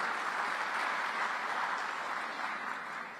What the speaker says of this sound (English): How about a round of applause to welcome the students?